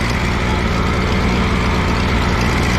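An Allis Chalmers G tractor engine runs at a steady idle while pulling a cultivator, giving a loud, continuous low rumble with no break and no talking.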